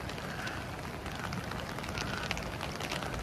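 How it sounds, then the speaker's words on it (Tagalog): Rain beginning to fall during a hike in Yosemite, a soft, even patter of drops spread across the surroundings, fairly quiet and steady with no voices. "Every time we start walking, it starts raining."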